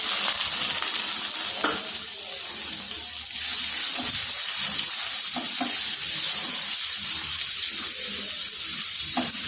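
Chopped onion and cumin sizzling in hot mustard oil in a pan for a vegetable dish, a loud continuous crackling fry with a few scraping stirs, no talking.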